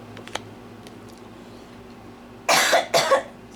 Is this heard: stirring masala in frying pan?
no